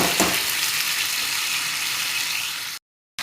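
Chickpeas for chana ghugri are stirred in a hot pan. A loud, steady sizzle and hiss carries scraping stir sounds and cuts out briefly near the end.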